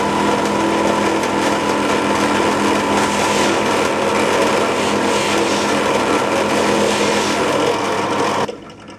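A horn nock on a yew longbow is buffed with a loud, continuous whirring rasp from a spinning buffing wheel for several seconds, then the sound cuts off abruptly.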